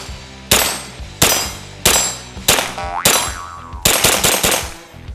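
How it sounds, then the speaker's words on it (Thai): Six sharp shots from a SIG Sauer 522 .22LR rifle at close range, each followed by the ringing clang of steel plates being hit, the last few fired in quick succession. "มายิงเพจสนุกสนุกกันนะครับระยะใกล้ๆนะครับ"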